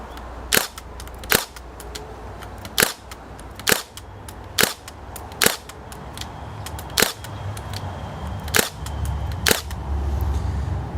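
A Makita 18V DST630 cordless narrow crown stapler fires about nine sharp, loud staple shots at a steady rhythm, each a crisp snap, with the last few coming closer together.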